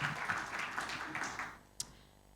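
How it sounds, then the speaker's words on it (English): Convention audience applause, a dense patter of many hands that fades out after about a second and a half, leaving quiet room tone with one sharp tap. "Let's give him another big hand clap"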